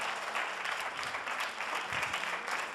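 Steady applause from a studio audience at a televised casting show, filling the whole stretch at moderate, even loudness with no talk over it.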